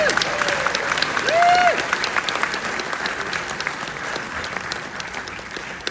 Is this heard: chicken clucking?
no